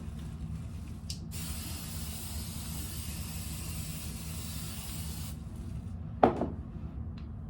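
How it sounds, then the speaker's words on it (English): Hair holding spray being sprayed from a can onto a ponytail, a long steady hiss lasting about four seconds after a brief first puff, followed by a sharp handling clatter. "I like to add a little bit of this holding spray"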